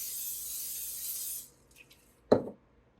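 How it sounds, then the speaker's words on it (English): Oil sprayed across an air fryer pan while cooking marinated chicken wings, a steady close hiss lasting about a second and a half, followed by a quiet pause and a brief knock. "then oil spray. Spray the whole pan."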